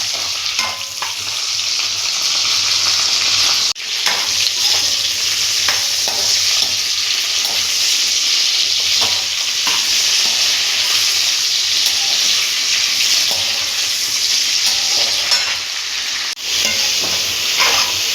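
Brinjal sautés in oil in a pan for a Tamil oil-fried eggplant dish, a loud, steady sizzle with crackle and occasional stirring scrapes running the whole time, with no talking.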